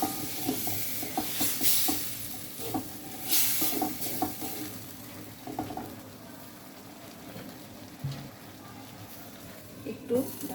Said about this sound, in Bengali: এবার মশলা দিয়ে ভালো করে কষিয়ে নিব।